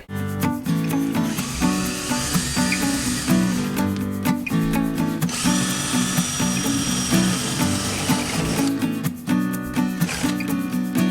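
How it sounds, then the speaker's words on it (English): A power drill with a center bit grinds continuously through a wooden cabinet, its motor whining and rumbling with brief dips in pitch as the bit bites and eases off. "I just used the center bit to drill through from the bottom"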